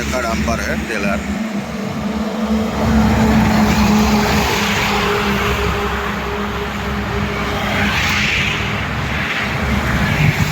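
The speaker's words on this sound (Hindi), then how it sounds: "ये 18 चक्का डंपर है, टेलर।" An 18-wheel dumper trailer truck passes on a national highway, its heavy engine and tire roar building into a loud, sustained rush of traffic noise, with someone speaking over it.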